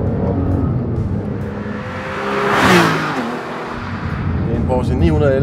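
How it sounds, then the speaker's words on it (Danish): A Porsche 911 Carrera 4S sports car engine revs and swells to a loud peak before settling back to a steady drone, heard close with a voice talking over it. "Det er en Porsche 911 Carrera 4S, og det er lidt en sjældenhed på de danske veje."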